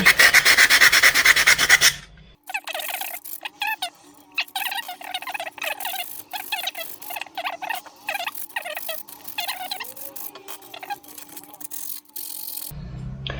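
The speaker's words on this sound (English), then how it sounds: "The other thing they suggested too was with the galvanized part is to give it a quick sand" Quick sanding of a galvanized metal part for a lemon battery setup, a loud continuous rasp for about two seconds followed by quieter intermittent rubbing and scratching with a faint steady hum underneath.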